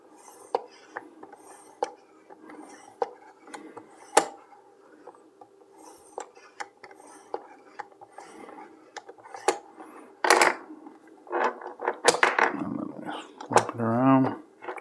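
A knife sharpened on a Work Sharp Precision Adjust Elite, with evenly spaced light rasping strokes on the stone, then louder scraping and clatter near the end, quiet and close.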